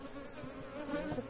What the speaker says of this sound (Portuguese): É porque tá de manhã, a maioria dessas abelhas tá no campo.